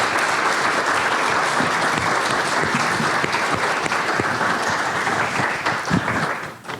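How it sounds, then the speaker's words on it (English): Sustained applause from a large crowd, dense steady clapping that fills the room before fading out at the end. "And I think we should give Keith a big round of applause for putting this together"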